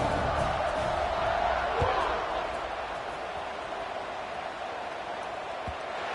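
A college football stadium crowd roars as Nebraska lines up to kick off, a broad distant wash of cheering that eases slightly, with a commentator talking over it.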